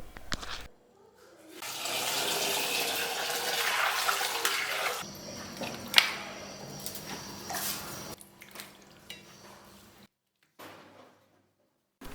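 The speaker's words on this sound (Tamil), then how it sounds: "மட்டன் 1/2 கிலோ, அதையும் நல்லா சுத்தம் பண்ணி கழுவி எடுத்துக்கலாம்." Tap water running while half a kilo of mutton is washed clean, a steady splashing gush for several seconds, then quieter trickles and brief splashes before it stops.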